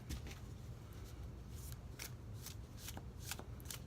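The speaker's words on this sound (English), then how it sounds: "I like a good shuffle. I like being able to touch all the cards, really connect with the deck." A tarot deck being shuffled: crisp, rapid riffles and card flicks repeat in quick bursts throughout, close and fairly quiet with no talking.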